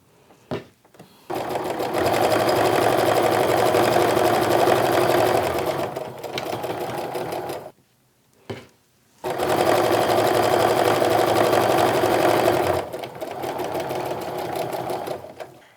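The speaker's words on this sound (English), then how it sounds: "Put that pin in and start sewing" A sewing machine stitches a quilt block in two long, loud, steady runs of rapid needle whir, separated by a brief pause and a click.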